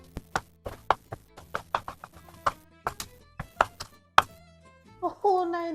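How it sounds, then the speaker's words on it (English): Vegetables being chopped for roasted veggie pizza, a quick run of sharp knife strikes on a board, close and fairly clear, with a brief voice near the end. "I'm gonna start putting the cubed vegetables in the roasting tin and I'm gonna crack on chopping."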